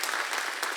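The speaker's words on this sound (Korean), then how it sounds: "주님께 박수를." Applause from a church congregation at a youth worship service, a dense, steady burst of clapping filling the room for under a second with no voices over it.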